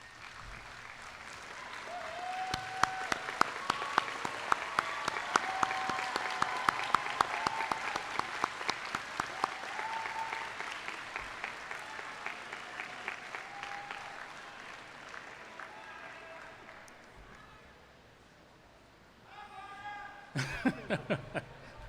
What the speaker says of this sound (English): give them a real nice round of applause because they deserve it.